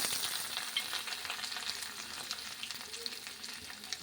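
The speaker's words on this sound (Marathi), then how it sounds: "कांदा टाकलेला आहे आता आपल्याला कांदा भाजून घ्यायचा आहे" Onion sizzling and frying in a pan after green chillies, a steady close crackle running through the whole stretch with no talk over it.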